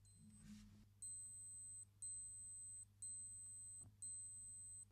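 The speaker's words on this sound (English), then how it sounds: "you can test the alarm by pulling the crown out to the first position and holding on to the button at the 2 o'clock" A Seiko wristwatch alarm sounds during a test, giving four evenly spaced high-pitched electronic beeps of about one second each, faint and close, after a brief handling noise.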